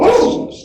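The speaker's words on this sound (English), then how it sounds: "sorry about the dog barking" A dog barks once, loud and close, a short harsh bark that fades into a brief whimpering tail, with no talking over it during a community planning meeting call.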